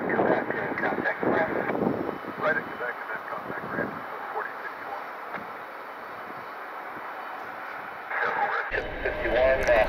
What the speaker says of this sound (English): Looks like a 757. Maybe departing on this runway here pretty soon.